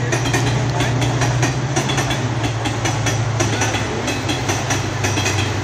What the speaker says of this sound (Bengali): সরি, এটা হইল কি কাঞ্চনজঙ্ঘা শিয়ালদহ এক্সপ্রেস